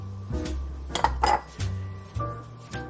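Brown sugar and cocoa being stirred into a mixture in a bowl for chocolate soil, with a spoon clinking and scraping against the bowl in several short bursts, close up.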